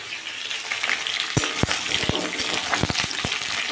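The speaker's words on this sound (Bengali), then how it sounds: "এমনি একটু লাল লাল করে ভেজে নিই" Pointed gourd (potol) frying unsalted in hot oil, giving a constant bright sizzle with several sharp spatula taps and scrapes against the pan in the second half.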